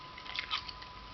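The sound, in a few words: gum chewing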